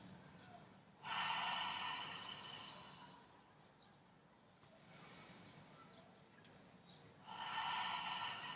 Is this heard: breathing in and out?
yes